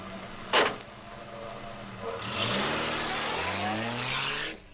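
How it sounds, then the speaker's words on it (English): A cartoon car motor revs up with a brief loud burst, then settles into a steady rising engine whine with squealing, tire-like tones, close and loud, with no talking. "Nice sounding motor."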